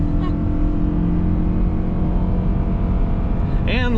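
2022 Toyota Sienna minivan accelerating gently from a launch, a steady engine hum heard from inside the cabin, with a voice briefly rising at the end.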